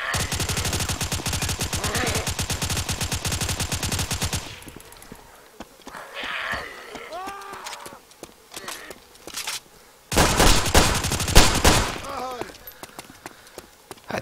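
Automatic gunfire in the survival game DayZ erupts in a long, loud, rapid volley, drops away to quieter sounds and talking, then bursts out again in a second sustained rattle.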